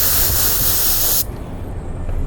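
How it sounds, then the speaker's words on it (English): A loud, steady hiss of brake cleaner sprayed onto a towel blasts for about a second, then cuts off abruptly, leaving quieter background noise. "Spray it on your towel."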